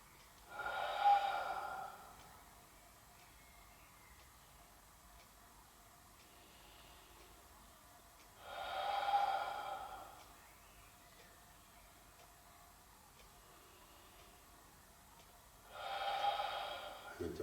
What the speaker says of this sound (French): On va inspirer par le nez. Expirer par la bouche.